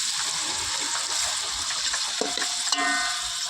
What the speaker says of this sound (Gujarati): ડુંગળી બુંગળી નાખી દીધી છે, તેલનો વઘાર આપીએ